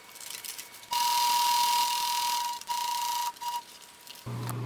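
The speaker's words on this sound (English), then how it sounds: "Sew the edges with a heavy needle, outdoor thread, and a sewing machine made with metal parts." A sewing machine with metal parts, fitted with a heavy needle and outdoor thread, stitches the edges of fabric for a garden irrigation ring in a few runs of steady whirring, stopping and restarting, with no talking.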